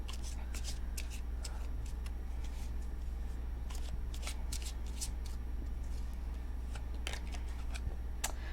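Tarot cards are shuffled steadily close to the microphone, giving a run of crisp riffling and slapping bursts over a low steady hum.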